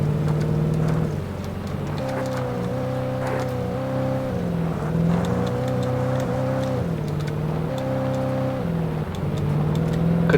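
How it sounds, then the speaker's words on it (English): Loud truck engine in the video game Alan Wake Remastered, a steady heavy drone that rises and falls in pitch as the vehicle drives and shifts, continuous for several seconds. "Could this truck be any louder?"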